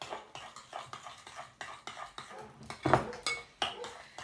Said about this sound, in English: And then we're going to mix that up.